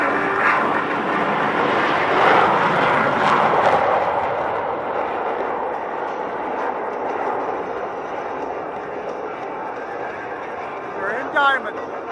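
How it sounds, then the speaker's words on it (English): Blue Angels diamond jets rolling on takeoff in afterburner at an air show, a loud, broad roaring rush that slowly fades, with an announcer talking over it. "smoke on, off brakes now, burners ready now, and the Blue Angel diamond is rolling"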